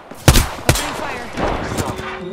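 A couple of loud, sharp gunshots ring out in a video game, each followed by a ringing tail, then quieter rumbling shots and battle noise trail off in the background.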